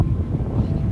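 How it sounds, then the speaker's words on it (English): Strong wind buffets the microphone on a winter beach, a continuous low roar and rumble throughout with no other clear sounds. "It's so windy!"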